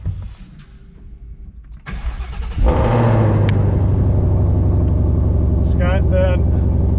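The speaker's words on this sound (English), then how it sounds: "We'll go ahead and fire this vehicle up." A 2022 Ford Mustang Shelby GT500 with the Carbon Fiber Track Pack cranks briefly and then fires up into a loud, deep, steady idle rumble with the hood and doors open, after a stretch of quiet background talk.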